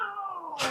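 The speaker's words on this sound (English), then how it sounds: "what are you doing to that poor cat? Cat's in heat." A cat in heat yowls in one long, loud, drawn-out wail with a rising, wavering pitch, breaking into a harsher burst at the end and heard alone without talk.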